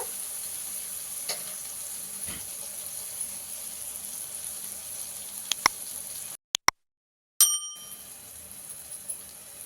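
Crab curry ingredients sizzle and fry steadily in a pan in a Chettinad-style kitchen, a continuous hiss broken by a few sharp metallic clinks of a spoon against the pan and a brief silent gap.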